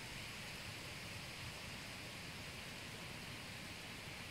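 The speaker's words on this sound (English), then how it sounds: "Yeah, there's a brook down there. And it's running." A running brook flows behind an outdoor hippie hot tub, giving a steady, even rush of water that holds constant from start to finish with no voices over it.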